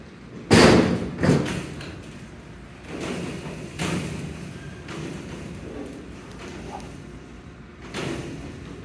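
Clunky manual doors of a freight elevator at a research center are opened, with a loud thud at the start followed by several softer knocks and scrapes, echoing in a hard space.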